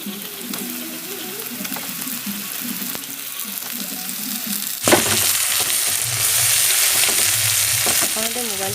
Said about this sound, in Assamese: এয়া পিয়াজ দি পেলাই মাছৰ যিটো মাথা থাকে সেই মাথাটো ভাজিম